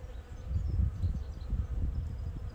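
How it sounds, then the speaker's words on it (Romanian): Honey bees buzzing around brood frames lifted from a hive, a dense, steady low hum from many insects close by, with no talking. "Albina e blândă."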